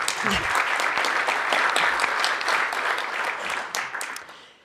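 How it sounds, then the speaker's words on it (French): A dense burst of applause fills a hall in the French Senate as senator Vanina Paoli-Gagin is welcomed, steady and full before fading out toward the end. "je laisse la parole à Vanina Paoli-Gagin, sénatrice de l'Aube. On peut l'applaudir."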